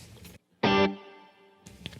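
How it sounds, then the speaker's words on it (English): An electric guitar chord struck once with a little reverb mixed into the dry signal, ringing loudly before decaying into a faint tail, set between brief muted strums. "So here is just a tiny little bit of the reverb sound mixed in with my dry sound."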